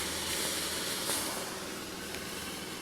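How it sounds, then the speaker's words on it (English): An Easy Home handheld fabric steamer from Aldi hisses steam from the holes in its head, a steady broad rush that stays close and even throughout, with no voices. "Here's where the steam comes out."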